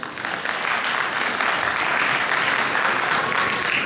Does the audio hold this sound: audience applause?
yes